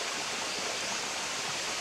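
Continuous roar of clean mountain waterfall water pouring into a stream, an even, unbroken hiss and rumble heard alone.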